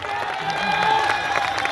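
A seminar audience claps together in a steady, continuous wash of applause with a murmur of crowd noise mixed in.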